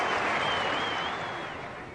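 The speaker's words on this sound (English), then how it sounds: "And gets a tremendous round of applause for it." A large cricket crowd applauds a boundary during the 1979 World Cup semi-final between England and New Zealand, a dense, loud wash of clapping that slowly fades over two seconds, with no talk.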